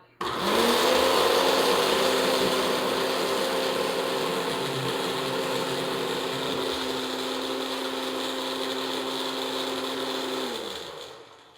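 A blender whirs steadily as it purees broccoli for cheesy balls, with a sustained high motor whine from start-up to a smooth spin-down near the end.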